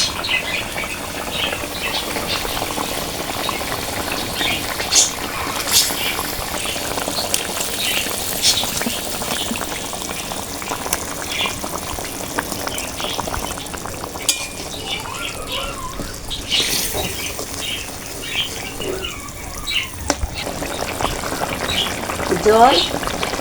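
Curry of pui stems with large tilapia, the fish fried beforehand, bubbles and simmers in a pot with a steady, moderately loud crackling patter and occasional stirring clinks. A voice talks over it at times.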